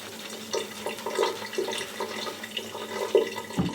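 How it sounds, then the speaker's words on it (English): Water is added to a shaving soap, making soft splashing and trickling with light wet clicks at a low, close level. "Add some more water to this."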